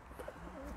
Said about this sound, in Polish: Do tego gołębia sprowadzona była samica czarna pana Marka Stawarskiego.